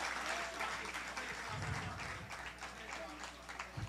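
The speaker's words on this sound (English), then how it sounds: "just give the guys a round of applause." An audience at a literary evening held in a prison applauds the performers, a steady, fairly distant wash of clapping with voices speaking over it.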